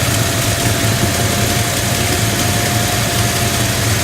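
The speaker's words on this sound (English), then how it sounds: "it almost sounds like a minor exhaust leak almost, and not necessarily a top end noise" A 1970 Dodge Challenger Convertible's engine idles steadily with a low rumbling drone and faint irregular puffing from a minor exhaust leak, running continuously at close range with no voices.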